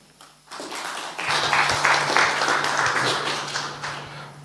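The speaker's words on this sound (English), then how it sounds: "Another round of applause for Logan Smith" Audience applause for a speaker after a sponsored lightning talk at a conference, starting abruptly and holding as a broad, steady wash of clapping that slowly eases off.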